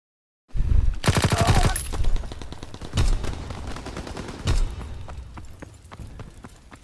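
Gunfire in Call of Duty WW2, loud rapid automatic bursts followed by several heavy single shots and scattered quieter distant fire.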